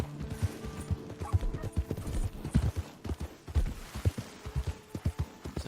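Horse hooves clip-clop in Red Dead Redemption 2 Online, a brisk, uneven run of loud, close thuds with a brief whinny and a faint mechanical rattle beneath.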